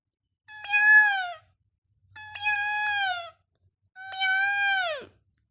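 A voice imitates a cat meowing, three drawn-out, evenly spaced meows, clear and close, each rising then falling, with silence between them.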